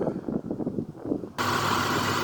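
A supercharged 5VZ V6 engine in a Toyota Tacoma with an aFe open-element intake starts up after some shuffling, then settles into a steady, loud, close idle drone.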